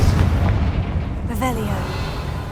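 Confringo spell in Hogwarts Legacy gameplay bursts in a loud, rumbling blast at the start that rolls off over a couple of seconds, with a voice speaking briefly over the tail.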